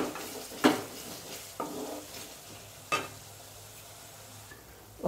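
Ginger fries on a low flame in a pan while a spatula stirs it. A soft continuous sizzle runs throughout, broken by about four distinct scraping strokes against the pan.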